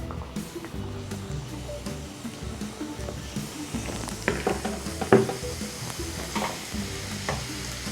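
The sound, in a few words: puri (golgappa) frying in oil on low flame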